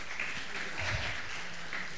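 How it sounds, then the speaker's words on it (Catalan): Audience applause at a book-festival event in a Barcelona station hall, a short burst of steady clapping from a seated crowd, moderately loud and continuous for about two seconds with a faint low murmur beneath. "Un aplaudiment."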